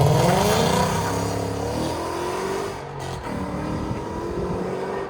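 A 2016 Ford Mustang GT with a 5.0L V8, headers and exhaust valves closed revs loudly up close, its pitch rising and falling through several pulls before settling into a steady drone as it moves off.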